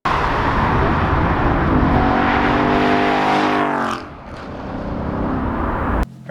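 A 2016 Ford Mustang GT Performance Pack on the move, its engine droning loud and close as the revs climb steadily, then easing off into a quieter roll before another brief push.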